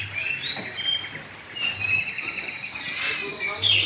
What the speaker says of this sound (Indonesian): Nah, ini burung kapasan.